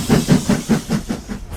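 The Jacobite steam train in Scotland chugs in a steady, rapid rhythm of loud, close, hissing puffs, about eight regular beats in under two seconds, with no voices.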